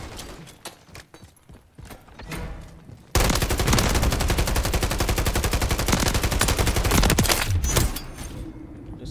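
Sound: gunfire in a video game

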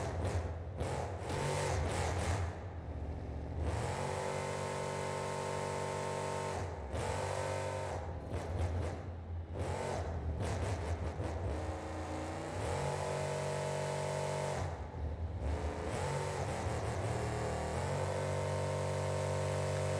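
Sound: monster truck engine at full power drifting, BeamNG.Drive video game

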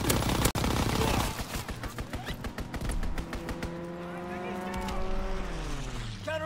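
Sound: fighter plane strafing gunfire, Call of Duty WWII video game

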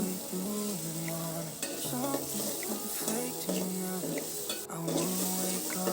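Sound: frying and stirring shrimp with jackfruit seeds in a pan

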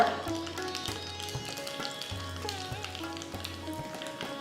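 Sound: mustard seeds spluttering in hot oil

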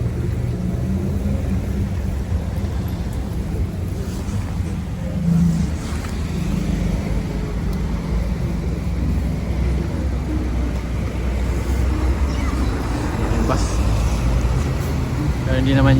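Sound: rush-hour road traffic

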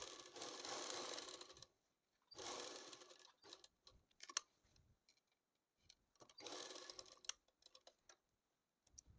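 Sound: sewing machine stitching a pant pocket

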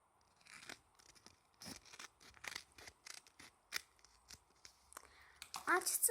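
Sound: cutting open a handmade gift box

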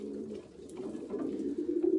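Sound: pigeons cooing

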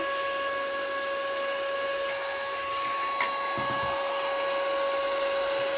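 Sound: mini car vacuum cleaner running

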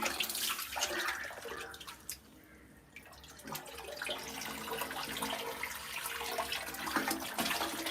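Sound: running water flowing again

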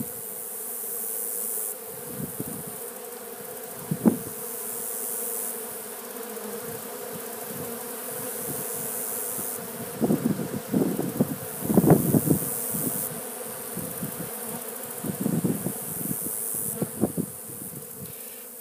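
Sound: bees buzzing

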